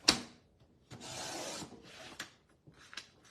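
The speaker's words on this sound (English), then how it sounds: "So here's my trimmer, and here's some printer paper from off my printer." A paper trimmer slicing printer paper, heard as a few short, dry rubbing swipes of the blade across the sheet, close and quiet, alone with no voices.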